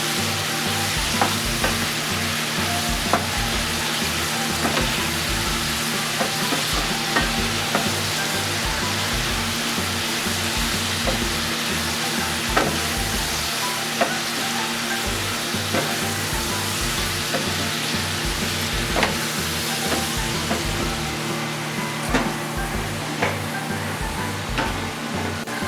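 Pork and pancit canton noodles with broccoli stir-frying in a hot pan, a loud steady sizzle with frequent clatters of stirring and scraping throughout, close up and without speech.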